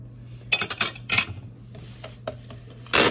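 Two butter knives scrape and clink against each other in short bursts, spreading filling onto celery for a kid-friendly ants on a log snack, with quiet pauses between the strokes.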